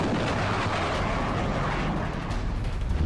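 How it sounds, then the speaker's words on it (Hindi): Explosions over Tehran, Iran's capital, during a US and Israeli attack: a loud, continuous, dense rumble of heavy blasts and booms with no clear gaps and no speech. "तेहरान में एक के बाद एक धमाकों की आवाज सुनाई दे रही है।"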